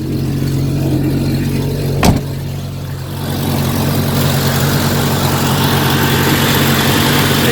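A 1992 Jeep Cherokee engine runs close by after an alternator replacement, a loud steady low rumble with a brief sharp knock partway through, the idle settling into a constant drone.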